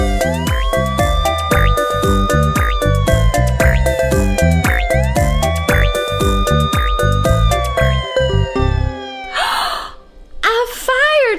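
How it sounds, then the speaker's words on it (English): A cartoon fire truck siren wails in long rising and falling sweeps over upbeat children's music, loud and steady for about nine seconds before the music drops out and a voice gasps. "A fire truck!"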